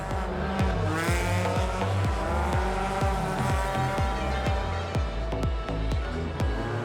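Super XX UTV race cars at the Race of Champions in Mexico, engines buzzing loudly and steadily with repeated rapid gear shifts and squealing tires, close and continuous.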